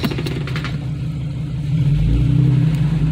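A Ford Explorer engine revs up loudly nearby as the off-road truck charges at an obstacle, building into a heavy, sustained roar.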